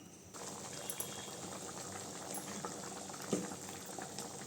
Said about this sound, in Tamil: குழம்பு நல்லா கொதிக்கட்டுங்க.